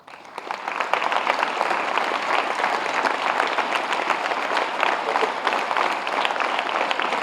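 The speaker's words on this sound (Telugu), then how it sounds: "గట్టిగా క్లాప్స్ కొడదాం" Sustained, vigorous applause from a group of students after a meditation session, a steady wash of many hands clapping for several seconds without talk.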